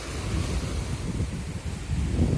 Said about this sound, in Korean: 왼쪽에서도 파도 소리가 싹 들리고요. 오른쪽에서도 파도 소리가 싹 들립니다.